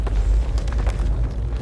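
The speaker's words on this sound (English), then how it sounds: "And now this vault will open" Vault door rumbling open in the pirate video game Sea of Thieves, a dense, loud low-frequency boom and grinding roar with a few bursts on top, sustained throughout without speech.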